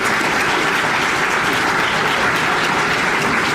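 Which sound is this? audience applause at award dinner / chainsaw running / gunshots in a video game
audience applause at award dinner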